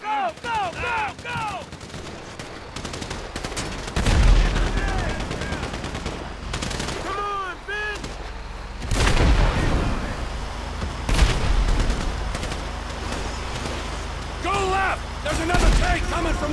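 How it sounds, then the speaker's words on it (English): Gunfire in Grand Theft Auto 5 during a shootout escape, repeated bursts of automatic and single shots with heavy booms, loud and near, mixed with a game character's shouted dialogue and music throughout. "So I guess we're shooting our way out of here!"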